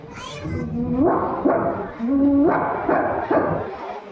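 At a school inter-house cultural competition, someone imitates large dogs barking, giving a quick series of rough, rising barks and yelps, loud and close.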